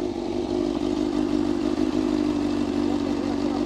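A used motorcycle engine idles nearby at a motorcycle fair in Caruaru, Brazil, with a steady, throaty rumble and slight rhythmic pulsing, continuous and unaccompanied by speech.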